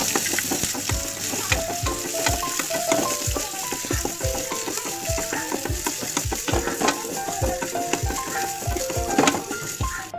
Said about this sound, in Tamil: வெந்தயம் பொரிஞ்ச பிறகு சாம்பார் வெங்காயம் பச்சை மிளகாய் போட்டு நல்லா வதக்கலாம்